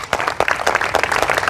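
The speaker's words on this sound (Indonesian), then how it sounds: "Berikan tepuk tangan bagi Yesus" Congregation at a revival gathering bursts into a short, loud round of clapping for Jesus, many hands overlapping in a brief, dense burst.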